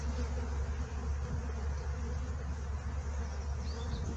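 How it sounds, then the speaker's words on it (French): Honey bees hum around an opened beehive while a beekeeper inspects a full brood box, a steady low buzz with individual insects drifting close to the microphone, fairly faint overall. "des abeilles qui sautent sur le casque"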